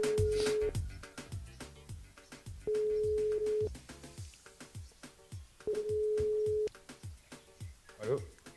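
Telephone ringback tone on a live radio call to a listener: three long, steady, evenly spaced beeps about three seconds apart, heard over background music and voices.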